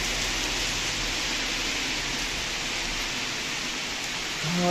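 Steady rain falls beside a roadside in Arnouville, a small town near Paris, making a constant broadband hiss of drops on surfaces that stays even and close, with a brief low thump at the end.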